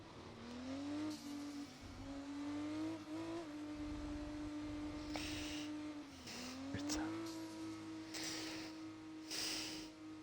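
Open-wheel F2 race cars in a racing video game on the Circuit of the Americas or Mexico City track, with an engine note that holds, rises and shifts as cars run past, heard fairly quietly and continuously with no talk.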